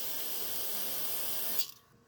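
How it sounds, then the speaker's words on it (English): Aerosol brake parts cleaner hisses in one steady, close burst onto a brake line fitting on a two-door Tahoe, then cuts off abruptly. "Spray this with brake parts cleaner just to make sure there's no dirt or debris on the sealing surface."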